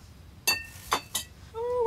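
Glass clinks three times while being handled during a haul of secondhand goods, short bright chinks close by, followed by a brief faint voice.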